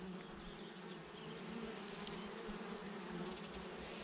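A dense, continuous buzz of many honeybees hums around at close range, steady and fairly quiet, with no voices.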